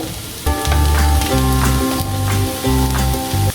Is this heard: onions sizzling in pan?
yes